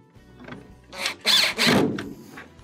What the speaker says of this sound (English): We will reattach the 3 holding screws.